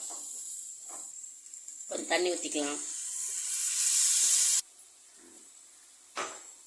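A spiced drumstick masala of onion and tomato with chili powder sizzles in a pan, a steady close hiss that swells as it is stirred. A voice speaks briefly over it, then the hiss cuts off abruptly.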